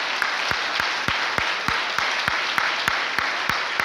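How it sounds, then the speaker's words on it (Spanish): A church congregation at a Sunday school service applauds, a dense bed of clapping punctuated by strong, evenly spaced claps in unison at a brisk steady beat, loud and close throughout. "Denle un fuerte aplauso al Señor."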